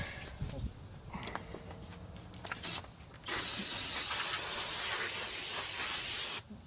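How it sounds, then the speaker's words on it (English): Brake cleaner sprays onto a 2012 Mazda 6 wheel brake with seized pads in a loud, continuous hiss for about three seconds after a brief short burst, with quiet shop sounds before it. "I'm gonna just give a little spray of the brake clean."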